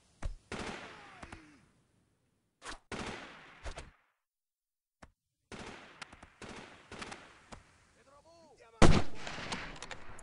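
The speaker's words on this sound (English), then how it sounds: "Some folks decided to start shooting at us" Gunfire in Delta Force 2 comes in separate short bursts with silent gaps between them, the loudest burst near the end, and a voice speaks at moments.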